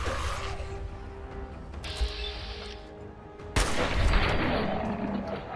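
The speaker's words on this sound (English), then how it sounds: "I just shot him in the dick." Two heavy gunshots from a video game ring out about a second and a half apart, each a sharp blast over a low mechanical hum, the second followed by a long rumbling tail.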